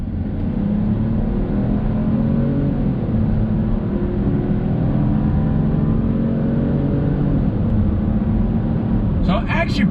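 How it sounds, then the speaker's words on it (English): A 2021 Chevrolet Trailblazer Active SUV under throttle from about 15 mph, its turbocharged engine giving a loud, steady drone that slowly swells over road and cabin noise, with a brief rustle at the very end. "We'll do another acceleration test here."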